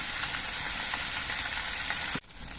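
Small mourola fish frying in hot oil, a dense, loud, steady sizzle that runs continuously and then drops off abruptly near the end.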